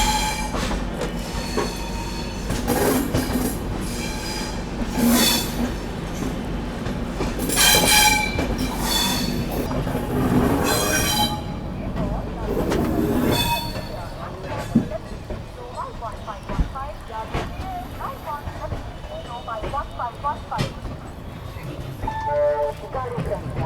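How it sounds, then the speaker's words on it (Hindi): Maharashtra Sampark Kranti Express (12907) pulling into Hazrat Nizamuddin station, with steady rumbling rail noise, squealing wheels and a few sharp clanks toward the end; a voice talks over the train for the first half. "अपनी ट्रेन जो है हज़रत निज़ामुद्दीन पहुंच रही है"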